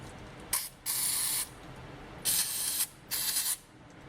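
Carburetor cleaner sprayed from an aerosol can onto the gummed-up carburetor of a 1965 Mercury Marauder, three loud, close hissing bursts of about a second each with short gaps between them, no talking.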